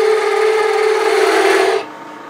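A lathe tool cuts a wooden replacement tool handle, a steady loud scraping hum with a clear tone that runs for nearly two seconds and then drops to a faint whir.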